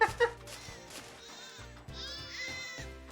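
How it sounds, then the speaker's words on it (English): Squeak ba sheep creatures in the Grandia II HD Remaster game bleat in repeated high, wavering cries over soft background music, with no talk. "Oh, they're sheep."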